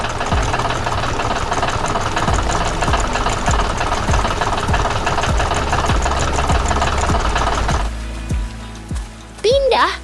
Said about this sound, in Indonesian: Traktor merah berlari dengan cepat di tengah pertanian yang hidup.